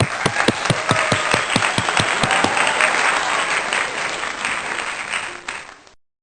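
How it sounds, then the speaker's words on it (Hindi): Congregation at a Hindi-language church's Sunday worship applauds: distinct individual claps quickly merge into a loud, dense wash of clapping that holds for several seconds before fading out. "तालियां।"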